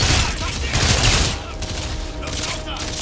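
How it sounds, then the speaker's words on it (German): Gunfire in Call of Duty: Infinite Warfare: a dense, loud burst of rapid shots in the first second and a half, then a softer ongoing rattle of firing with a faint electronic tone, under game sound. "Ich schieß durch die Lücke."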